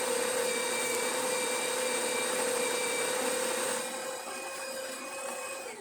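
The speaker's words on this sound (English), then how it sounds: "Now it's going to fully grind the right amount." DeLonghi Magnifica bean-to-cup espresso machine grinding coffee beans, a steady close whining buzz that runs for several seconds before easing slightly in pitch and level near the end.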